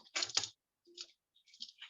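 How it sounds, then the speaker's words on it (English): A craft cutter slices a paper circle out of card, a few quiet, close scratchy cutting strokes separated by short silent pauses. "I'm just cutting this circle from the middle. Just make a mark with the cutter."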